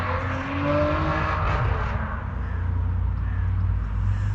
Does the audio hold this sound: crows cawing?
yes